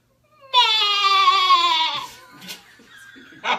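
A person imitates a goat's bleat: a single loud, wavering nasal cry of about a second and a half, followed by brief quieter murmurs and a short burst of sound at the end.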